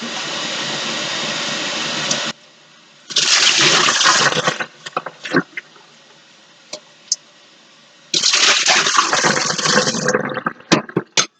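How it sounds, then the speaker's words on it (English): Running water rinses a kitchen strainer and a measuring cup used for straining a coneflower and vodka herbal tincture, coming in two loud, steady bursts with quieter clinks and handling sounds between them. "And then I'm going to rinse out my strainer so I don't get coneflower or vodka in something else."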